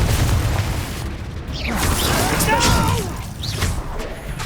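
Spell blasts in the Hogwarts Legacy video game burst and boom in quick succession, mixed with whooshing magical effects and a low rumbling bed, with a voice casting spells over the action.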